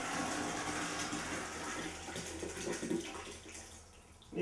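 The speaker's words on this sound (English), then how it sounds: "pour that into the whatever you're straining it through." Liquid compost tea pours through a straining net, making a steady splashing, trickling rush that runs at moderate level throughout and swells briefly at the end.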